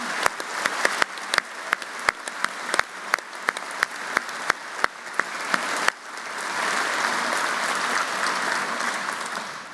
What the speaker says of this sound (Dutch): Dus ook graag een applaus voor Astrid en Gerard.